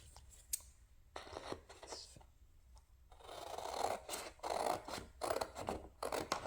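Scissors snip through printed cardstock while a 4x6 button card is cut out by hand, giving a run of close, crisp snips and scraping cuts with short pauses, louder and denser in the second half.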